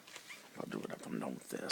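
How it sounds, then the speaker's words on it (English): A pet dog whimpers with thin, high yelps close by, partly masked as someone talks over it indoors. "If you hear that, that's my dog."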